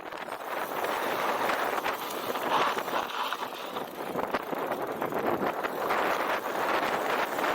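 Steady, loud wind buffets the microphone on a mountain bike trail on a windy day in Bakersfield, California, a continuous rough roar lasting throughout with no voices.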